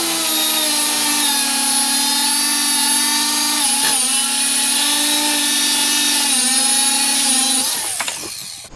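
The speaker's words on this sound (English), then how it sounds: "So I'm going to cut this shock off and then drop the front end" Power tool cutting through a front shock absorber on a 1977 Ford F150, a loud continuous high-pitched whine with strong harmonics that holds steady for about eight seconds, then winds down and stops near the end.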